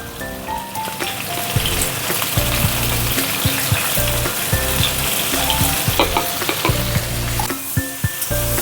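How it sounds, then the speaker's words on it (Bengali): Ridge gourd fries in a pan with salt and turmeric, a steady dense sizzle with constant crackle and pops plus occasional stirring knocks, close and loud with no talk. "এবার ঝিঙের মধ্যে আমি অল্প একটু লবণ আর হলুদ দিয়ে ঝিঙেটা অল্প করে একটু ভেজে নেব।"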